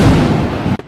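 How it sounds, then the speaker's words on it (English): A loud, close explosion boom reported from a drone strike in Moscow, a dense rumbling blast that fills nearly a second before cutting off abruptly. "There was a boom, a bang."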